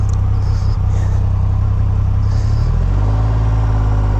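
A 2021 Triumph Rocket 3 GT, with the largest production motorcycle engine, idles loud and close with a deep, steady rumble, then its pitch shifts lower partway through as the engine settles.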